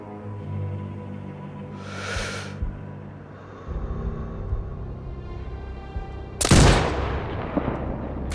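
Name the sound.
sniper rifle shot in video game Sniper Ghost Warrior Contracts 2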